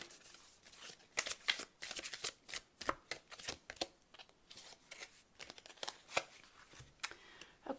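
Divine Animal Oracle cards are shuffled by hand in a steady run of quick riffling slaps and soft flicks, close to the microphone and moderately quiet, with no voice over the rapid rhythm.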